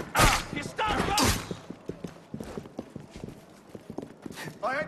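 Horse hooves clip-clop in a quick, steady galloping rhythm in the Assassin's Creed Unity video game, with voices speaking over the hoofbeats at the start and end.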